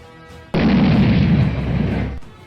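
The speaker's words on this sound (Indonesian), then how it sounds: "Mobil yang lainnya lalu juga ikut meledak" A car exploding, a sudden loud blast that cuts in after a quieter stretch, then a dense roaring rumble that holds for well over a second before fading out.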